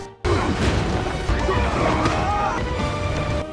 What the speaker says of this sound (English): Fortunately, a big chimney crashed down,